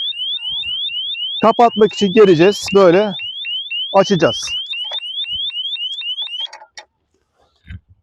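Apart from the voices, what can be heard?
disc lock alarm sounding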